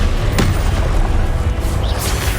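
A spell-cast effect from Hogwarts Legacy, the Expelliarmus disarming spell, lands as a sharp booming burst with a crackling sweep, loud and close, followed by a brief whooshing tail.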